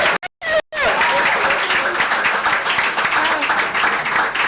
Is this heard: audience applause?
yes